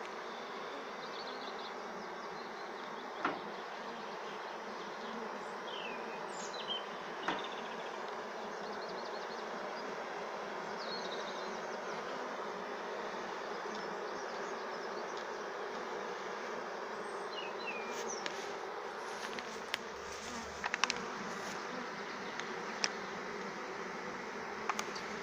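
A swarm of honeybees being hived hums in a dense, steady drone throughout, close and continuous, with occasional faint clicks and brushing taps over it and no talking.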